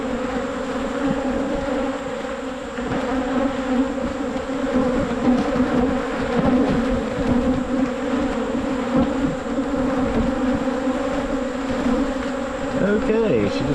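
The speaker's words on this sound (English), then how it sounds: "The bees are starting to get a little rowdy, so I'm assuming they know I have the queen captured." Honeybees buzz loudly and continuously around an open hive during a late-August inspection after the queen has been caught, a dense close swarm hum that stays steady throughout with no talking.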